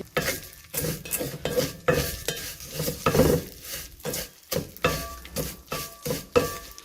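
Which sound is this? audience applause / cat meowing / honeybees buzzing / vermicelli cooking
vermicelli cooking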